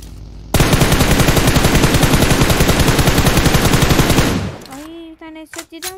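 A sustained rapid burst of automatic gunfire in PUBG Mobile, loud and close, rattling without a break for about four seconds before cutting off, followed by brief voice sounds.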